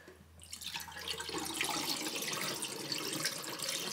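Antifreeze poured into a sink drain trap makes a steady, close splashing gush that starts after a brief quiet moment and runs continuously to the end.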